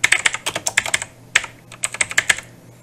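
Rapid computer keyboard typing, crisp and close, as a widget name is entered in QLC+ lighting software, two bursts of keystrokes separated by a short pause.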